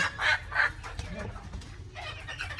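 Silkie chickens cluck in a few close, nasal bursts, then softer fowl murmurs and shuffling follow at moderate volume, with no clear speech over them.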